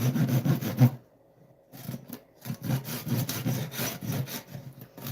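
Wood is hand-sawn into short pieces for snowman ornaments, a close rhythmic rasp of quick back-and-forth strokes broken by a brief pause.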